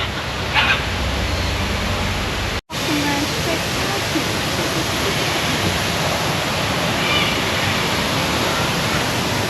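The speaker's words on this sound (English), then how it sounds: "Big waterfall." Big waterfall in the wetlands at Singapore Bird Paradise, a steady broadband rush of falling water filling the whole clip, loud and continuous, with a brief dropout early on.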